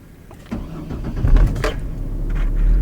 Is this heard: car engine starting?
yes